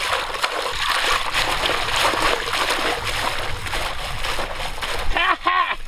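Water splashes and sloshes steadily as a large octopus is washed clean in water, with continuous close splattering and a few sharper swirls near the end.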